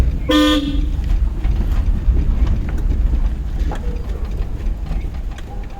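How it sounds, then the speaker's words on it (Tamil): A car horn honks once, short and loud, near the start of a driving lesson, followed by steady engine and road rumble from the moving car. "ஹார்ன்"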